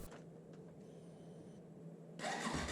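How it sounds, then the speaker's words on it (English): A Yamaha WR250R motorcycle with a freshly installed spark plug cranks briefly, then its engine catches and fires up into a loud, close running idle. "make sure the bike will start and run after the spark plug work"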